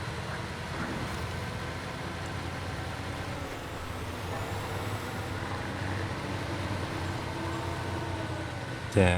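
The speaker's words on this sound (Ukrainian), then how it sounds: "Давай на поніжайку, бо тут трошки наче вгору, щоб йому було легше їхати." In SnowRunner a heavy truck grinds uphill in low gear, its deep engine droning steadily under a rumble, with a short loud thump at the very end.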